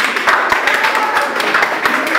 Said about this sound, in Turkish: Osman bir alkışlayın, Osman bir alkışlayın.